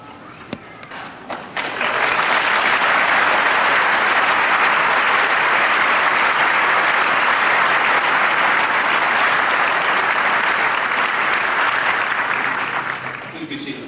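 Sustained audience applause fills a high school commencement hall in 1993, building within the first two seconds to a loud, steady wash of clapping that holds for about ten seconds before easing slightly at the end.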